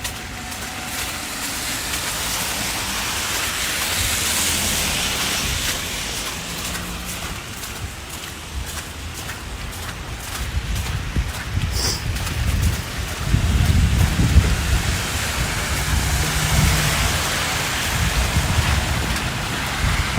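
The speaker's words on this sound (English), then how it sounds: "the rain seems to be a little bit lighter than it was" Steady hiss of freezing rain falling in Toronto, broadband and continuous for the whole stretch, with low rumbling swells partway through that suggest passing traffic on wet streets.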